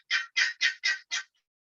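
A chicken gives five quick, evenly spaced clucks in a short rhythmic burst, fairly close and alone, then falls silent.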